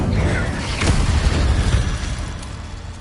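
A fire spell from the video game Hogwarts Legacy goes off as a dense, loud whooshing burst with a low rumbling roar that swells and then slowly fades over a few seconds.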